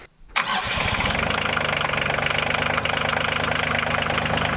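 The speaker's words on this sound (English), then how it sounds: "All right, I'll grab the tractor." A farm tractor engine cranks over briefly, catches, and settles into a loud, steady, knocking idle close by, with no one speaking.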